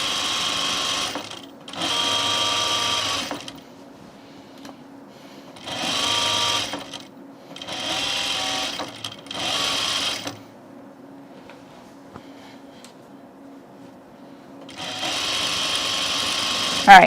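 A sewing machine stitches a French seam on a shirt in bursts. Its fast, buzzing run starts and stops several times, close and loud, with quiet gaps between the bursts.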